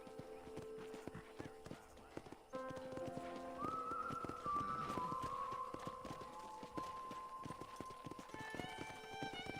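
Horse hooves clip-clop rhythmically at close range in the video game Red Dead, with a brief whinny and a musical tone in the background.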